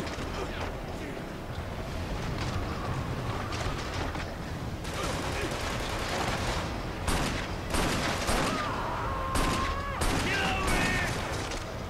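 Intense gunfire in Killzone 2, played on Elite difficulty: a continuous battle of rapid automatic bursts and heavy thuds, with loud clusters of shots dense around the middle and end over a constant rumble.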